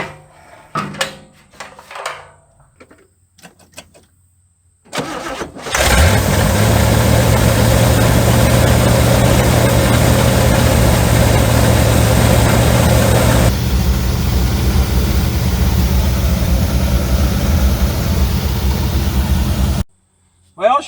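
A 1972 C30 engine on a newly fitted fuel system cranks briefly, catches and settles into a loud, steady idle that runs for about fifteen seconds before cutting off, with faint clatter of work beforehand.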